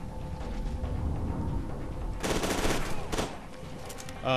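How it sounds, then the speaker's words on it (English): In the video game FEAR 2, rapid bursts of automatic gunfire crackle through a tense gunfight, with two sharp volleys standing out over a low background rumble. "is easier to manage a gunfight without using your slow-mo, but always comes in handy"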